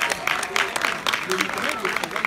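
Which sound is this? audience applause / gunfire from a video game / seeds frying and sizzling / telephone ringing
audience applause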